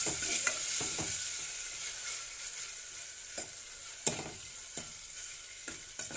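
Onion paste sizzles in hot oil as a spoon stirs and scrapes it, the steady frying hiss broken by repeated clanks and knocks against the pan.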